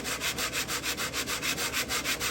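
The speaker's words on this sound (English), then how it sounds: "you want to still keep sanding in one direction" Steady back-and-forth rasping of sandpaper on a saw kerf in wood, sanded in one direction, close and rhythmic, about five strokes per second with no talking.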